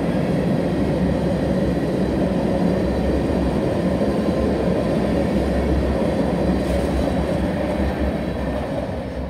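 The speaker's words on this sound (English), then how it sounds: "there goes a northbound tanker train" A northbound tanker freight train passes close and loud, a continuous heavy rumble with wheel clatter on the rails, easing slightly at the very end.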